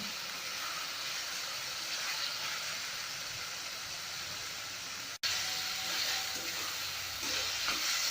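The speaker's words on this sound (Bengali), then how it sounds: "তেল না ছাড়া পর্যন্ত আমি মশলাটা নাড়তে থাকবো।" Bengali masala for mustard hilsa fries in oil while being stirred, giving a continuous close hissing sizzle with faint scraping, briefly cut off once before resuming.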